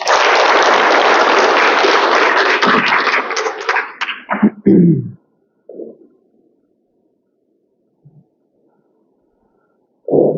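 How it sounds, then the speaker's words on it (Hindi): An audience at a spiritual talk claps loudly in a dense burst for about four seconds. It breaks into a few scattered claps and thuds before falling to near silence, with a short murmur at the end. "एक बार जोर से ताली बजाएं।"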